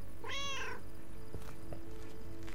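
A single clear cat meow from the video game Lake rises and falls over a steady low hum, followed by faint clicks.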